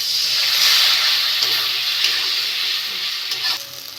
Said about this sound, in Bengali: মশলাটা কষে নেওয়ার একটু জল দিয়ে দেবো।